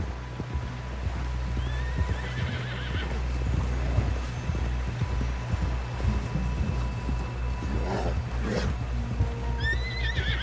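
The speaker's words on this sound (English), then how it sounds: "Someone help John down off this horse" A horse in the video game Red Dead Redemption 2 neighs and whinnies while hooves clip-clop steadily, with a low continuous rumble of ambient background throughout.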